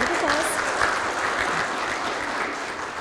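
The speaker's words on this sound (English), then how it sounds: "round of applause" Audience applause at a county STOP-DWI awards presentation honoring graphic arts winners, a steady, dense wash of clapping filling the room throughout.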